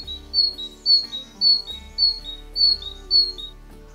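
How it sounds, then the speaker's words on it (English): A male great tit calls close by, repeating a clear two-note whistle about seven times in an even, bouncing rhythm. "The call of a male great tit is one of the easiest to recognise"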